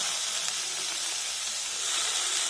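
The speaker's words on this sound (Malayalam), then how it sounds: "അതിലേക്ക് അരിഞ്ഞു വെച്ചിരിക്കുന്ന ഇഞ്ചിയും വെളുത്തുള്ളിയും കൂടെ ഇട്ട് കൊടുക്കാം" Chopped ginger and garlic sizzle in a hot pan for chickpea curry, a steady, close hiss that stays even throughout with no talking.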